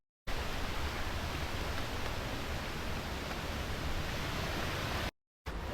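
Ditumabo Mother Falls waterfall in San Luis pours as a loud, steady broadband roar of rushing water close by, unbroken for about five seconds before a brief cut.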